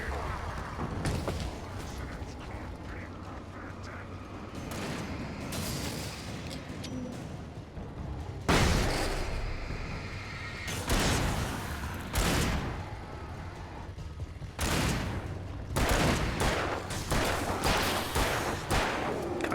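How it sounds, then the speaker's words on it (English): Gunfire in the Alan Wake video game, several sharp shots scattered across a noisy, busy game soundscape, each one a loud broadband burst with rumbling ambience between. "God, I missed like 4 shots."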